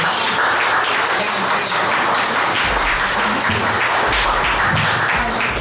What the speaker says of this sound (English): another round of applause for my dear cousins that just, break down